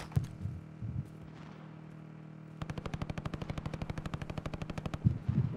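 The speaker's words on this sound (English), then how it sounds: "Someone's shooting us." Rapid automatic gunfire in the video game Call of Duty Warzone, a few scattered shots followed by a long, fast, evenly spaced burst of bright cracks, with another short volley at the end.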